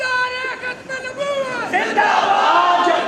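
A large crowd shouts in unison at a religious gathering, voices rising together in a loud, sustained roar of chanted slogans that swells toward the end.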